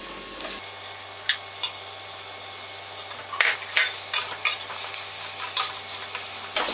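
Carrots stirred in a hot pan for carrot rice, with a continuous soft sizzle and repeated spoon scrapes and taps that grow busier toward the end.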